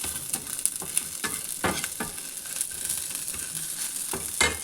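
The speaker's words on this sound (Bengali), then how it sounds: "দেখুন একদম সুন্দরভাবে ভেজে নিয়েছি পেঁয়াজটা।" Onion fries in a pan with a constant close crackling sizzle, and repeated clinks and scrapes of stirring run through it with no voices.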